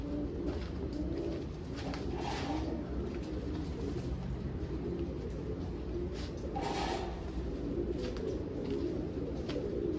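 Domestic pigeons coo steadily in a loft, with soft, layered cooing from several birds repeating throughout over a constant low background murmur.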